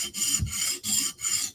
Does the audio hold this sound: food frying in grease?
no